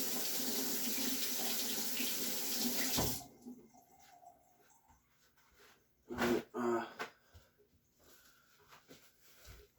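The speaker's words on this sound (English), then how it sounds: "I'm gonna wash my hands before I show you guys that, so I don't cream cheese everything." A kitchen tap runs steadily as hands are washed of cream cheese, then shuts off, leaving quieter splashes, rubbing and a few louder bursts of water.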